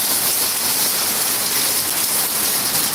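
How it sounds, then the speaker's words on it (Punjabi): Heavy rain pours down in a loud, unbroken roar, a thick hiss of water with no voices or pauses. "ਬਹੁਤ ਜ਼ਿਆਦਾ ਮੀਂਹ ਆ"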